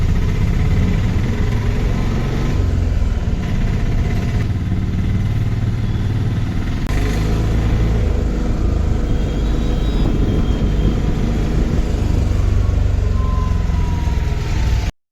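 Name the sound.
auto rickshaw engine running during ride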